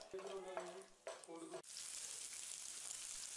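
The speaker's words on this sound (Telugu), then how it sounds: "ఆయిల్ హీట్ అయిన తర్వాత బిర్యానీ ఆకు, దాల్చిన చెక్క, లవంగాలు, 2 యాలకులు వేసుకొని బాగా ఫ్రై చేసుకోవాలి." Whole spices, bay leaf, cinnamon, cloves and cardamom, frying in hot oil in a home kitchen for a chicken curry. A few soft knocks and stirring sounds come first, then a steady, even sizzle continues to the end.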